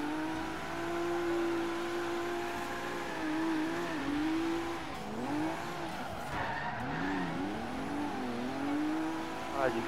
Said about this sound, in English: You can hear me clutch kick, that's crazy.